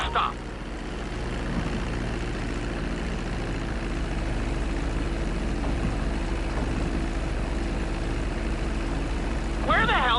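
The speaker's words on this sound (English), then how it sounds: "Now let's get the plane off the runway." A plane taxis on a runway in the video game GTA 5, with a steady engine and propeller drone throughout and brief voice sounds at the start and end.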